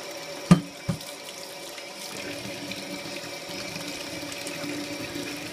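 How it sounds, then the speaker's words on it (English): Hot water runs from a kitchen tap over coffee mugs in a sink, a steady splashing hiss that starts after a couple of sharp clunks and continues at moderate level, with no one speaking. "I'll run hot water over the mugs until they're nice and warm"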